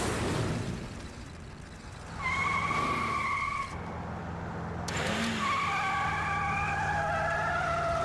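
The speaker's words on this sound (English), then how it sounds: "just a car chase" A car chase in an animated Batman series: tires squeal in long, high skids, two screeching bursts over a rumbling engine and road noise, fairly loud and with no voices.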